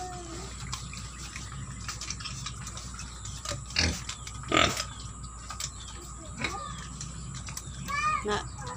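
Native pigs in a pen give several loud, short grunts and squeals up close, with faint voices talking and some clatter in the background.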